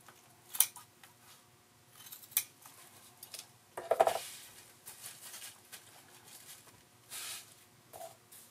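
Scissors snip away paper pattern pieces for a homemade dress form. The quiet, close cuts come in short separate bursts with pauses between them and no speech.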